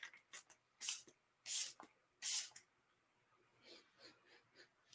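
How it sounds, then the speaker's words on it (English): Hourglass setting spray misted onto a face, several sharp, close hissing spritzes in quick succession, followed by softer breathy noises and faint rustling. "Let me spray my face and I'll see if I can place it."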